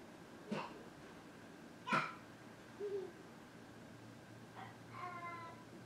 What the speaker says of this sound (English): I know my dog is going crazy right now